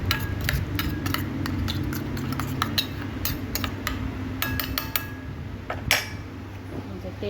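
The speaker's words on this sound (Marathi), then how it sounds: "पूर्ण चमच्याने मिक्स करून घ्यायचं मिश्रण" A spoon mixes crab filling, the yellow inner part of a crab, with chutney, salt and turmeric in a bowl. It makes irregular, close metallic clinks and scrapes over a steady low background hum.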